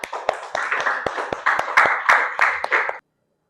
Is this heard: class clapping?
yes